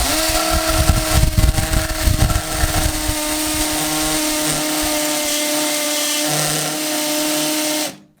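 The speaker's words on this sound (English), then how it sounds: "So I'm gonna drill a hole right there." A hammer drill drilling into concrete whines loudly and continuously with a steady tone and rough grinding underneath, then cuts off abruptly at the end.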